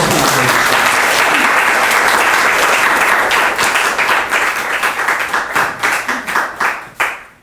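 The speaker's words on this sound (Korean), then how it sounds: "한번 박수로" A lecture audience at a Korean book talk applauds a professor's introduction, the loud sustained clapping filling the room before thinning into scattered claps and fading out.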